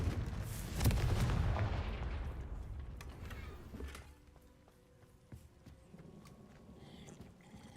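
A Confringo blasting spell explodes in the video game Hogwarts Legacy: a loud, heavy boom near the start trails into a long rumbling decay, followed by lighter scattered game effects.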